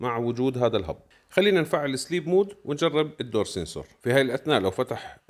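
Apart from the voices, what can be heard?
None of the usual background noises is heard.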